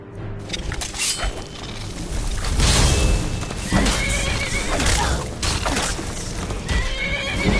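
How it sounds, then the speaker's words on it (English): A loud horse whinny in Skyrim rises and trails off over galloping hoof clops and thuds, close and busy, with no one speaking. "Oh, there's my horse."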